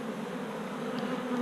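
Honey bees hum at a strong colony's hive during comb honey harvesting, a steady, even drone that holds at moderate volume throughout.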